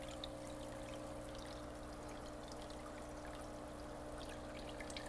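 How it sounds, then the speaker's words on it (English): Steady running water trickles continuously from an aquarium side filter's waterfall outflow, a constant soft splashing flow with no pauses. "it also provides oxygen to the water as well with the movement of the water from the waterfall"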